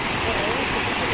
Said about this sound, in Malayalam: അപ്പോൾ ഇവിടെ നിന്ന് നമുക്ക് ഇങ്ങനെ വെള്ളച്ചാട്ടമൊക്കെ കാണാം